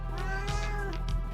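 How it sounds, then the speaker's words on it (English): A house cat meows a few times up close, drawn-out plaintive cries with a slightly strained, caterwauling edge, heard alone without talk. "What's up, cat? What's up, cat? What do you want?"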